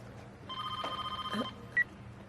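An office phone gives one short electronic ring lasting about a second. A brief high beep follows, and the room is otherwise quiet.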